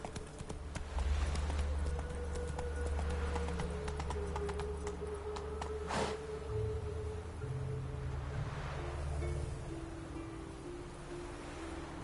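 Horse galloping in The Witcher 3, rapid rhythmic hoofbeats running steadily at close range over game music and ambient wash, with no talking.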